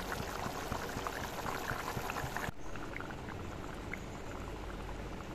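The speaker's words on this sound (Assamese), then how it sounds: "ঢাকনিখনো দেখিছেনে তৎক্ষণাতে মাৰি দিয়াৰ লগে লগে উতলিবলৈ ধৰিলে আঞ্জাখন" Fish curry with potato and tomato bubbles vigorously in a lidded wok. The steady hiss and fizz continues close and unbroken, with a brief dip partway through.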